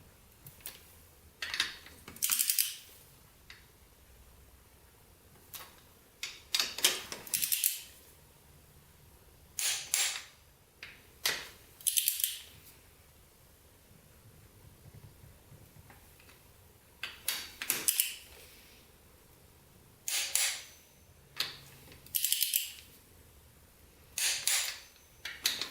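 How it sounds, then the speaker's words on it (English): A torque wrench tightening the cylinder bolts on a Honda 400ex quad fitted with a 440cc big bore kit, worked in a crisscross pattern: repeated sharp metallic clicks and ratcheting in separate bursts, close and clear, with quiet pauses between. "the 4-cylinder bolts are 33 foot-pounds. Let's get those torqued down here."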